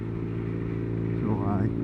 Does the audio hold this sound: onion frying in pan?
no